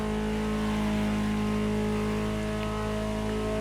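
A Ferrari supercar engine in The Crew Motorfest drones at a steady high pitch with strong harmonics, holding speed loudly and evenly with no pauses.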